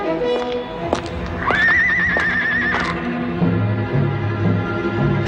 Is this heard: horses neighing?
yes